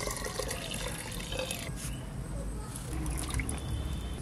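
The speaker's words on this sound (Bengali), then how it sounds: "গরম জলটা ঢেলে নেবো এবার।" Hot water poured into a pan of duck curry, a soft, splashing liquid pour with light trickling, fairly quiet against faint background noise.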